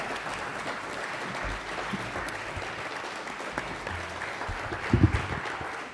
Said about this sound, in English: Let's all please join us in giving Jane and Megan a round of applause.